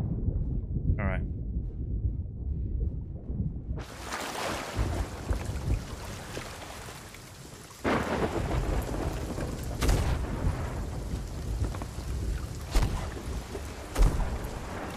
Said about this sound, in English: It's more of the storm right now.